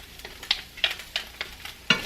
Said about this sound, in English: We are going to add our garlic and our onions in there. My pan is a-smoking.